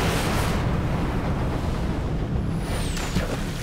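Deep, sustained rumble of a ship's aircraft bomb magazine detonating, the blast shaking a sinking warship; loud continuous low roar throughout with a brief whistling tone near the end, no speech.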